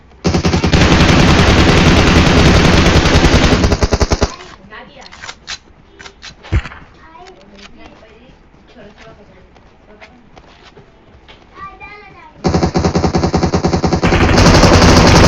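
Machine gun fire from a mobile shooter game played on an iPad roars in two long, loud sustained bursts at the start and end, with quieter in-game sounds and a voice talking in between.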